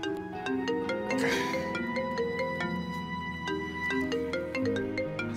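A mobile phone rings with a steady, tuneful electronic melody that repeats its notes at moderate volume, playing alone without talk, in an Indonesian drama scene.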